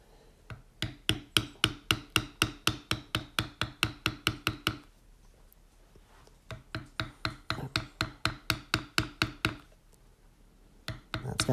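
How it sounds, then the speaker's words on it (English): A leather beveling tool is struck in steady, rapid taps while working around the outside of a tooled leaf, two long runs of sharp, close knocks separated by a short pause, with more taps at the end. "I'm going to start by beveling out on the outside of this leaf"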